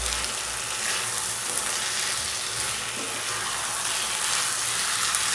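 Sago upma stirred in a pan over a slow flame, a continuous soft sizzle with light scraping and stirring textures, steady and close, with no talking.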